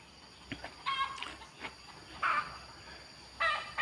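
Chickens cluck in a chicken coop, giving several short, harmonic calls in scattered bursts against a steady background hiss, moderately close and fairly quiet, with no one speaking.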